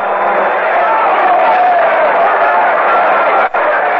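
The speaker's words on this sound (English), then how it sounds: "And the crowd responds." Baseball stadium crowd at a Yankees–Brewers game reacting after a high inside fastball knocks the batter down, a steady dense roar and murmur filling the whole stretch, with a brief dip near the end.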